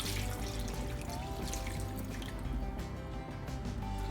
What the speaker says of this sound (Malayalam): അതിലേക്ക് എടുത്തു വെച്ചിരിക്കുന്ന 1-ാം പാൽ ഒഴിക്കുക